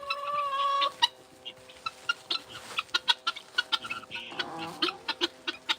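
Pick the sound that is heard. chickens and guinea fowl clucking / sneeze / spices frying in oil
chickens and guinea fowl clucking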